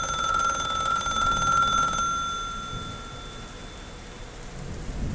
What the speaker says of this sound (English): on a stormy night, Violet received a strange phone call from an anonymous caller